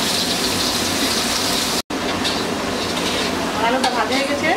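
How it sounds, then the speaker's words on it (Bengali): Large boal catfish frying in hot oil, a dense, steady sizzle with stirring scrapes that fills the whole stretch, broken by one very short silent gap. "মাছটা ভালো করে ভেজে নেব"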